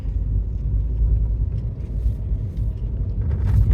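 Steady low road rumble heard from inside a moving car, a continuous engine and tyre drone with no talking.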